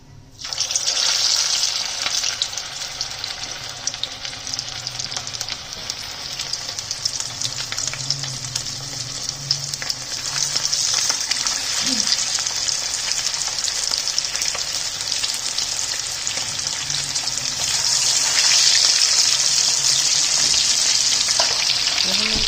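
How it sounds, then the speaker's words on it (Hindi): Spicy fish marinated for at least three hours fries in a pan over low heat, giving a continuous close hiss and crackle that grows slightly louder partway through, with occasional soft stirring sounds. "अब मैं इसको ना फ्राई करूंगी।"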